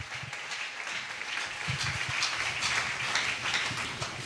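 A church congregation applauds during a Sunday worship service, steady clapping from many hands building from about a second in and holding throughout, fairly close and full.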